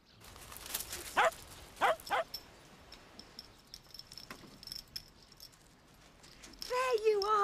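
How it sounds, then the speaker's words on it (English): A dog gives several short, sharp barks in quick bursts near the start, then background clatter and hoof-like clopping follow, with a sudden loud burst at the end; talk is mixed in. "Pippin, all you've got to do is bark at him"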